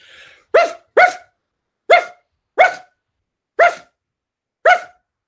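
A dog barks sharply six times at a vacuum cleaner, loud and close, the barks spaced irregularly about half a second to a second apart with silence between.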